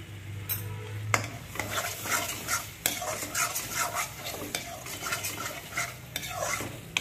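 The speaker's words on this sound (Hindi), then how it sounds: "अब इसको अच्छे से चलाते रहें" A spoon scrapes and stirs through thick paneer masala with chicken masala in a pan, with soft sizzling and irregular clinks of metal against the pan.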